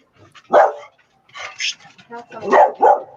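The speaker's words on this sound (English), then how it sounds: "that doggies bark sometimes, so we got to deal with it" A dog barks several times nearby in an indoor setting, sharp yips and bow-wows coming in short bursts with brief pauses between them, mixed with some speech-like sounds.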